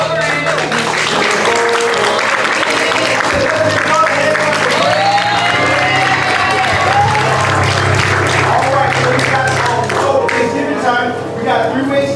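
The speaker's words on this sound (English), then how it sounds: "let's give God a hand clap of praise." A church congregation claps in praise, loud sustained applause blending with music and voices over roughly twelve seconds.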